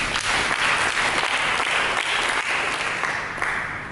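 Sustained applause from a church congregation, broad and even with individual claps faintly distinguishable, fairly close and continuing without speech before tapering slightly.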